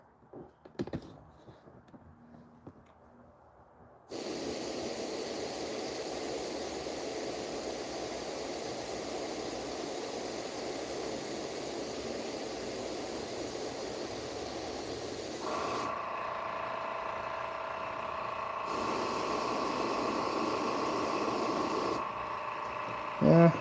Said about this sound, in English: I don't want to overspray it, but I just want a little bit.